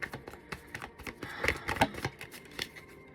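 A deck of cards is shuffled close by, giving a quick, soft run of riffling flicks and taps over about three seconds.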